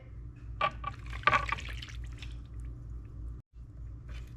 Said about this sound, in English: You're going to add 2/3 cup boiling water.